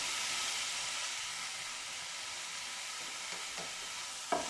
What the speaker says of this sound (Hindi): और इसके अंदर हम चिकन ऐड कर देंगे और इसे 3 से 4 मिनट तक हमने फ्राई करना है